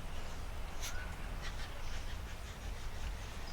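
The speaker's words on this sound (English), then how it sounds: "I hope the birds aren't too loud this morning." Birds call outdoors in the morning, a few faint, brief chirps and squawks scattered over a steady background hiss, distant and sparse.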